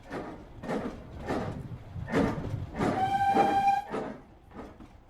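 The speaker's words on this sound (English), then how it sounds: "So Krupa, imagine it's the year 1871 and you're on a train from Toronto to Montreal." A train rumbles along with rhythmic clatter, and a sustained whistle blows midway for about a second before fading back into the running noise.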